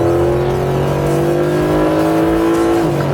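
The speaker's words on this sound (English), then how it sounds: "Oh, that engine noise." A Mercedes SLS with a high-horsepower V8 roars under hard acceleration, a loud, sustained, close engine drone climbing steadily in pitch, heard alone without talk.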